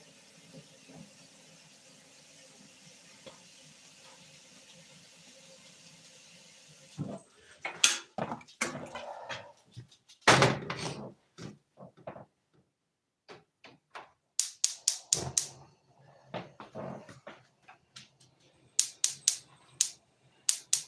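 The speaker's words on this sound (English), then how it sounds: "I gotta tear the stove apart again." Gas stove burner parts being taken apart: faint room hum gives way to a burst of sharp metallic clicks, clanks and scrapes, irregular and close, with clustered rapid taps near the end.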